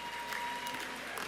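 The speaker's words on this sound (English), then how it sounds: "Let's give all of our honorees a round of applause." Applause for honorees at a national honours and investiture ceremony sounds as a faint, steady patter of clapping from a distant audience, continuous through the short stretch.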